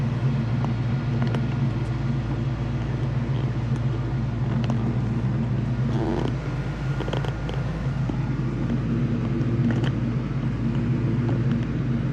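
A K5 Blazer on a test drive, its engine and road noise forming a steady, loud interior rumble that runs unbroken throughout with no talking.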